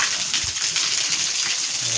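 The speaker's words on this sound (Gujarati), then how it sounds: "પાણી ચાલુ કરી દીધું છે" Water gushes into a freshly cleaned water tank in a continuous, loud, close rush that holds steady throughout.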